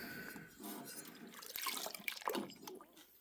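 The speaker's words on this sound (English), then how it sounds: "Now I gotta make sure I put enough water in here to cover the parts." Water pours into an ultrasonic parts cleaner being filled to cover engine parts, splashing and gurgling unevenly for a few seconds at close range.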